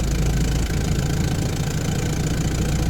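Ford Model T engine running during a rolling stop while driving through Paris: a loud, steady, close low-pitched chugging rumble with faint knocking, continuous throughout with no talk.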